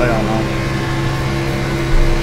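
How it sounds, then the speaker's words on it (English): A steady, compressor-like mechanical drone with a low hum runs at an even level throughout, heard behind a voice during an iRacing B-class race at Michigan. "It sounds like some kind of air compressor."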